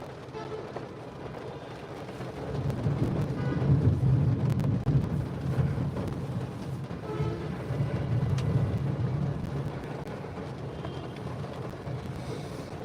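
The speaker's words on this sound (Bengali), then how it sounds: "প্রচুর পরিমাণ বজ্রপাতের শব্দ সেই সাথে থেমে থেমে মুসুলধারে বৃষ্টি" Low rolling rumble of frequent thunder swelling and fading over steady heavy downpour in Dhaka, with a constant background roar.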